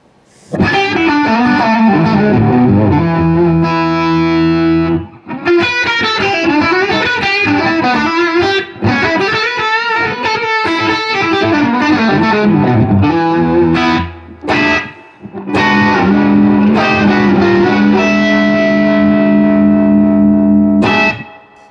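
Electric guitar through a ZenDrive overdrive pedal plays a loud melodic lead with bends and sustained notes, briefly pausing before continuing with gritty, singing tones.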